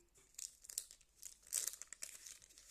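Soft plastic crinkling and rustling in quick irregular bursts, close and fairly quiet, as a bag is handled and opened.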